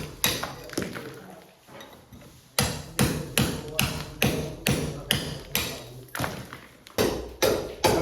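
Concrete being chipped out of walls with hand tools during a door, window and wood floor renovation, a steady series of sharp, close hammer blows at roughly one per second with short pauses.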